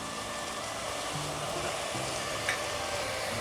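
Turmeric and spices being stirred into onions frying in a pan for kuska, a steady close sizzle with occasional scrapes and clinks of the spoon.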